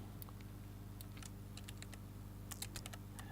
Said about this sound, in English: sorry, just typing that typo